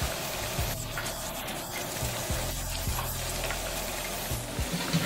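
Kelewele, spiced plantain pieces, frying in hot oil with a dense, steady sizzle close by and occasional soft stirring scrapes, with no talk.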